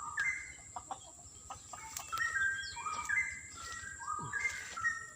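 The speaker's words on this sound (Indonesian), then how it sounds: "itu ada suara burung tetangga" Bright, liquid straw-headed bulbul whistles repeat in short phrases over a steady background hum, with a few softer chirps scattered between them.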